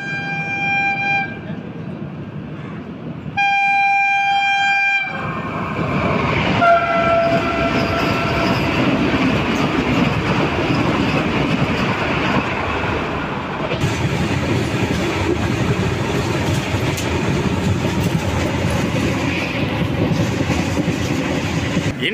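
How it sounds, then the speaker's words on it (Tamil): A superfast express train passes on a single rail line at a level crossing, with loud horn blasts, then a close, sustained rumble and clatter of wagons rolling by for a long stretch. "ஒரு சூப்பர் ட்ரெயின் வந்துட்டுருக்கு."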